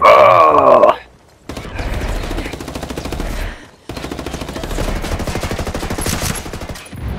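Rapid automatic gunfire from a video game shootout, with long bursts of closely spaced shots separated by short pauses, loud and close. A brief voice is heard at the start.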